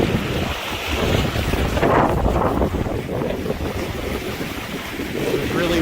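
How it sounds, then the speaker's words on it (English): Strong wind blows over open water, roaring into the microphone as a continuous, loud rumble with a faint voice underneath. "It's really windy."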